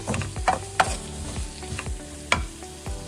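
Onions sautéed in oil for puffs filling, a close sizzle broken by repeated sharp spoon scrapes and knocks against the pan at an irregular rhythm, no voices.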